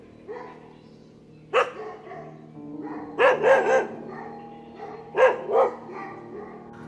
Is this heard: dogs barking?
yes